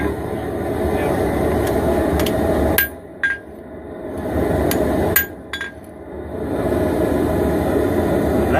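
A hammer forges a dagger blade, ringing out in a handful of sharp metallic blows, some in quick pairs, over a steady background roar from the forge.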